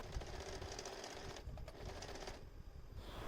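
A sewing machine stitching saree blouse fabric, running in a fast, even mechanical rattle with brief shifts in pace, close and fairly quiet, with no talking.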